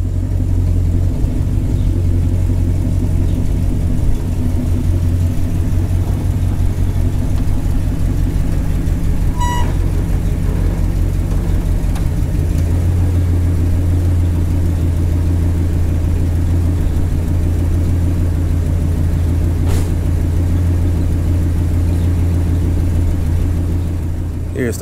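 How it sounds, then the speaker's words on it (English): A 1989 Chevy Caprice box Chevy drives close by with a steady, deep engine rumble, holding constant with a slight rise partway through and no voices over it. "Let me bring the box Chevy down here"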